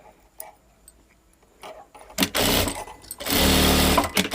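A sewing machine stitching the shoulders of a blouse runs in loud, steady whirring bursts with a short pause between them, close up and with no talk.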